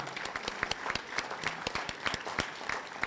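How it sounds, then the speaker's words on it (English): A small crowd at a school athletic banquet claps steadily for a few seconds, irregular hand claps blending into modest applause. "So I'd like for everyone to give them a round of applause for all the hard work"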